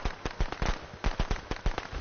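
Rapid bursts of firecrackers popping in the Friday the 13th video game, sharp repeated cracks in an uneven string over two seconds, close and fairly loud.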